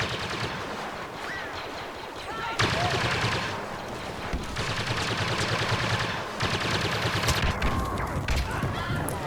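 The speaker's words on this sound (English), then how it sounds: "Blaster cannon. Blasting me with the cannon." Rapid bursts of blaster cannon fire in a Star Wars VR video game, loud and dense, roaring in sustained volleys across the whole stretch with dense crackling and booms, voices calling out faintly beneath.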